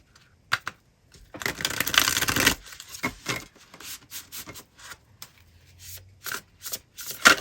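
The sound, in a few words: tarot cards being shuffled and drawn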